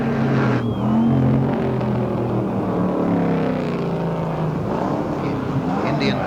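Racing cars, including a Mini Cooper S, roar around the Warwick Farm circuit in 1969 with a loud sustained engine drone that rises and falls as they pass, while a commentator talks throughout.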